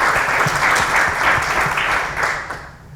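An audience at a panel on AI and business innovation applauds warmly, a dense, steady patter of clapping from a crowd that fades slightly toward the end.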